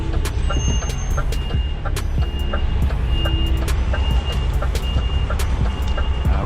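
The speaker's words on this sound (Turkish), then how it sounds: "Oradan da bir tır çıkıyor" A truck pulls out of a narrow street in busy traffic, its repeated reversing beeps sounding steadily over a constant engine rumble and nearby road noise.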